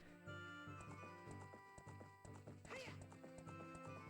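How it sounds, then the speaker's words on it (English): Epona's hooves clip-clop in a steady, even trot in The Legend of Zelda: Ocarina of Time 3D, with game music playing throughout and a brief whinny near the middle. "Good horse."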